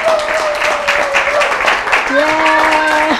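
An audience claps steadily and fairly loud for a chef, a continuous wash of applause with voices talking and calling out over it throughout.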